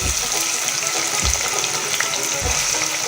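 Onions fry in hot oil with a steady, close crackling sizzle, broken by a few soft thumps of stirring.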